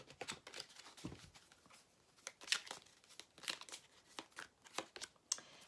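Tarot cards are handled and laid out, making soft papery flicks, slides and shuffling crinkles in irregular bursts, close and quiet.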